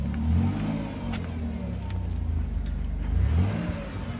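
A 2003 Dodge Grand Caravan Sport with an automatic 3.3 liter V6 revs in a couple of low, rising swells, near and fairly loud, with no voices.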